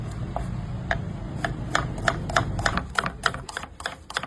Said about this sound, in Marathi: आता बिर्याणीसाठी कांदे कट करून घेऊ